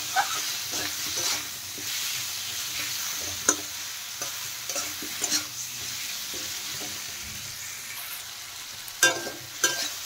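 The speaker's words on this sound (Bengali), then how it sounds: "এখন আমি ভালোভাবে মশলার সাথে আলু কষিয়ে নেব।" Potatoes sautéed with spices in a pan for a fish-head cabbage dish, a steady close sizzle broken by repeated scraping stirs and a few sharper utensil knocks, with no talking.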